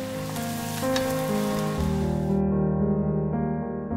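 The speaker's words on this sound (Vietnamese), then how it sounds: "Và mình tiếp tục chiên lần lượt cho đến hết luôn nha." Dried rice vermicelli cakes frying in hot oil give off a steady, close sizzle that holds evenly throughout, with a tonal background underneath.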